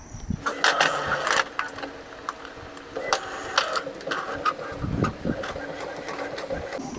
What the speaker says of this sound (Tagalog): So, nozzle check tayo.